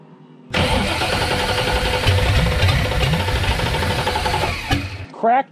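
A 1965 Ford Mustang engine cranks and turns over, running with a steady rumble for several seconds before cutting off, with a brief burst at the end.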